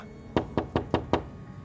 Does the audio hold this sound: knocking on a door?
yes